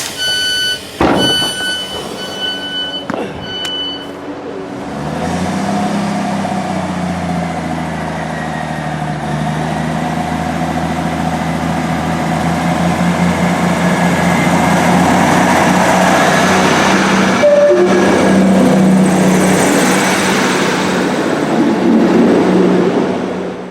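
A Class 158 diesel train at Wigan Wallgate station: a few clanks and a short chime, then the engine revs up into a loud, steady drone that swells and continues for about twenty seconds close by.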